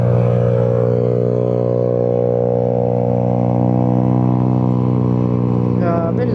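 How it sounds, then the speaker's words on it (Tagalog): Loud, steady exhaust drone from a Honda Navi motorcycle, a small scooter-style bike, running continuously and close up with a constant engine pitch for the whole stretch. "Grabe, lakas ng tambutso."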